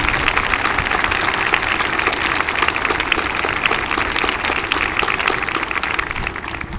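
Audience at a military ceremony honoring soldiers and a Command Sergeant Major breaks into sustained applause, many hands clapping in a dense, even roar that carries steadily and fades slightly at the end.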